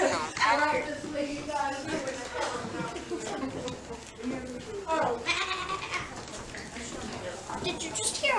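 A person imitates a goat with repeated wavering bleats, loud and close, inside the Washoe Club in Virginia City, Nevada, and voices are heard talking around the bleats.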